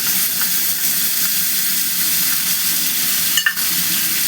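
Ground ginger and green chili paste frying in a pan for vegetable khichuri, a steady close sizzle and hiss with a brief louder crackle near the end.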